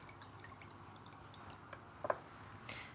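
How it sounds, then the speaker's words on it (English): A few faint drips of water fall from a handful of squeezed, rehydrated raisins, with one clearer splash partway through, over a quiet kitchen background. "we'll squeeze out that excess water"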